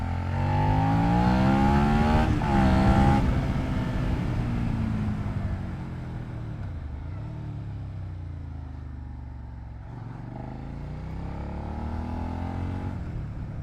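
A 2022 Suzuki SV650 motorcycle is ridden on the road, its engine note rising under acceleration, dropping at a gear change, then climbing again over steady wind rush, close and moderately loud, no talk.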